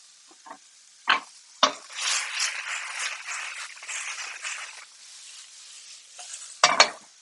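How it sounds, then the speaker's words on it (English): Smoked gravy is stirred in a pot: a few sharp clinks of the spoon against the side, then soft scraping and swishing, ending in a couple more knocks. "I give that smoked gravy a little spin"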